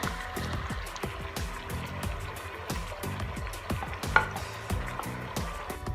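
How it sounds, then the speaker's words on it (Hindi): Chicken korma frying in a pan just after whisked yogurt is added, with a steady close sizzle and repeated clattering stirs of a spoon against the pot throughout, no voices. "दही डालने के बाद हम इसे मज़ीद 2 से 3 मिनट के लिए भून लेंगे।"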